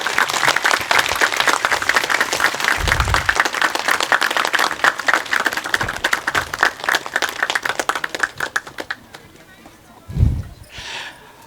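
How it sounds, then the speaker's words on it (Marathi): An audience at a felicitation event applauds with dense clapping that fades out toward the end, with a few brief low thumps near the mic. "सर्वांनी टाळ्या वाजून कौतुक करावं"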